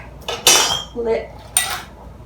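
Metal lids go onto filled jars of apple butter with a few close, bright clinks and a softer scrape between them, set apart by short pauses.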